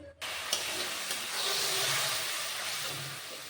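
Ginger garlic paste hits a hot cooking pan and breaks into a sudden, steady sizzle that swells, then eases slightly but keeps hissing close up.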